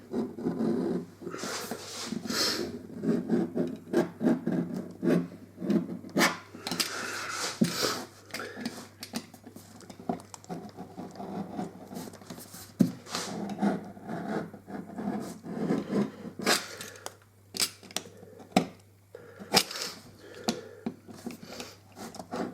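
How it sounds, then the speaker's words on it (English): Sharp craft blade traced around the edges of a material, repeated close scraping and rasping strokes in an uneven rhythm, with small taps and handling knocks throughout, no talking. "just want to come in at one of the sides and then sort of just trace round"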